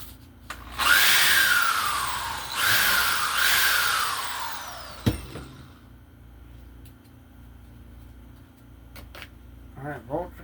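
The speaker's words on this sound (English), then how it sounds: "I'll drill a hole for them real quick" A power drill bores bolt holes, heard as several close, loud whining bursts early on, followed by quieter handling noises and a few clicks, with some talk nearby.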